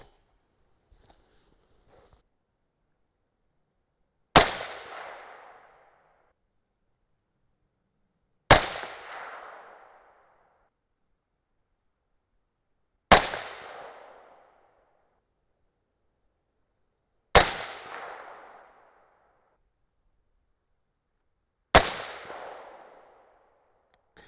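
Five .223 Rem rifle shots firing 62 grain Hornady boattail hollow point loads from an AR at a shooting bench, sharp loud cracks with short decaying echoes, spaced roughly four seconds apart with quiet between.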